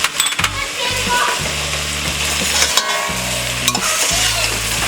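Potato pulao with rice is stirred in a pan, a spoon scraping and clinking against the metal in repeated strokes over a steady sizzle.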